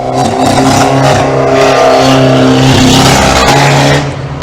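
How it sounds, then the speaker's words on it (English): Heavily armoured 1600-class banger racing cars roar through a stock car heat in Scotland, a loud, continuous engine drone with shifting revs as several cars pass close by. "So this is the next heat for the 1600 bangers."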